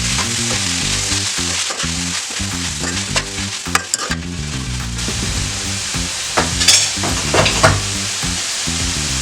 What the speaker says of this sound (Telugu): నేను కట్ చేసి పెట్టుకున్నటువంటి గంగవాల్ కూర యాడ్ చేసుకోవాలి. ఇలా కొన్ని యాడ్ చేసుకున్న తర్వాత ఒకసారి కలుపుకోవాలి.